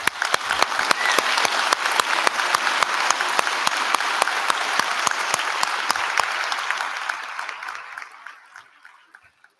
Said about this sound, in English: We'll have some applause there.